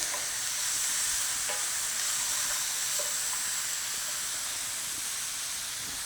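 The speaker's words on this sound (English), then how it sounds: "we're gonna give it one little stir to kind of incorporate all of that" Seasoned Wagyu and bacon-wrapped hot dogs fry in a hot pan, a steady, even sizzle and hiss with a few faint scraping taps of stirring, close and continuous, with no talking.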